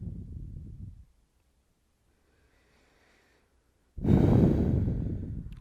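Slow, deliberate breathing during a gentle yoga practice: a soft breath at the start, a long quiet pause, then a fuller audible exhale or sigh, close and intimate, with no talking.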